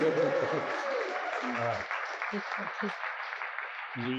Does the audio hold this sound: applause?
yes